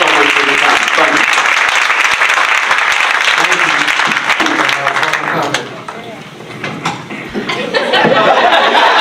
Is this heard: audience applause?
yes